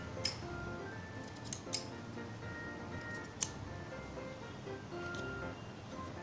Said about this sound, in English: holding the two pieces together, and then I shall cut V sections out of them